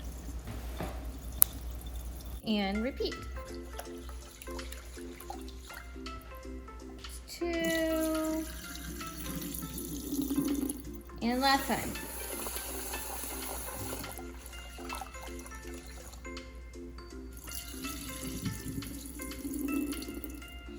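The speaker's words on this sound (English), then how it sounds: "Gently pour the water out." Water is poured off rice being rinsed in a pot at a kitchen sink, with running tap water and splashing and trickling that come in bursts and repeat several times, close by, while a person talks briefly.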